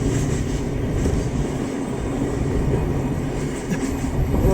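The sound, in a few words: train passing on Farakka Barrage bridge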